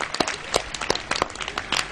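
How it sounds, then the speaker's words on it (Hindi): At a public gathering, an audience welcoming a Muslim cleric gives brief applause with loose, fairly distinct claps close by, ringing out at an uneven rhythm. "एक बार जरा जोरदार तालियों से स्वागत कीजिए हमारे मौलाना साहब का।"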